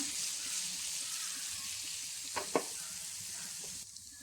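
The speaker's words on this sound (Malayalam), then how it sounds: "എല്ലാ പീസും ഇട്ട് കൊടുത്ത് നമുക്കിതൊന്ന് കറക്കി കൊടുക്കാം" Fish roe pieces fry and are stirred in a pan for a Kerala fish egg fry, a soft steady sizzle with a couple of sharp spoon clinks near the end.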